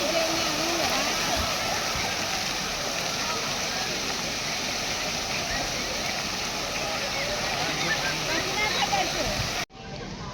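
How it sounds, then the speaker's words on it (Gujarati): Water pouring from a filled cup in a water feature at a safari park, a steady rushing splash that stays loud and constant for nearly ten seconds before cutting off abruptly. "એક કપ છે ભરાઈ જાય એટલે પાણી પડશે"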